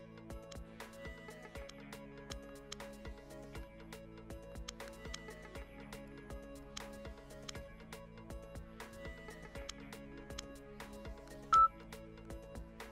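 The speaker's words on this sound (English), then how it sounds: "Okay, we're gonna dial the number now." A telephone number being dialed: a steady run of short keypad tones, evenly spaced and close, under a continuous background tone, with one brief higher beep near the end.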